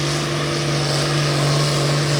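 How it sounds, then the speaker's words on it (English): A pulling tractor with a John Deere six-cylinder diesel engine roars at a tractor pull in Rantoul, Illinois, giving a loud, steady, heavy drone with a strong low hum. "John Deere 6-cylinder diesel, a Ford 66 power plant under the hood."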